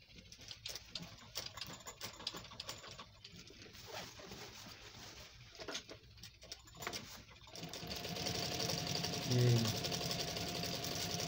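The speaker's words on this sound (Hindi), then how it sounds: "मैं ये सिलाई लगा के आपको दिखाता हूँ।" A sewing machine stitches the edge of a cut-style cloth front placket strip. The motor hum runs steadily and close in the last few seconds, after a stretch of handling noise.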